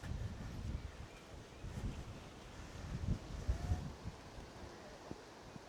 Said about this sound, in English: the wind's really picked up now